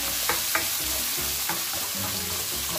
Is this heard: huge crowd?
no